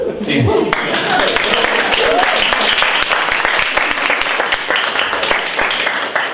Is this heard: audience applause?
yes